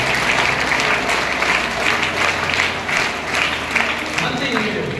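Loud, dense applause from an audience of children at a Kannada talk on shaping young minds, a continuous wash of clapping with voices mixed in.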